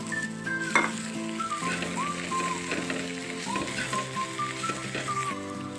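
Two spoonfuls of homemade black chilli powder frying in hot oil for an egg curry, giving a steady close sizzle with some spoon scraping, while faint whistling tones drift in the background.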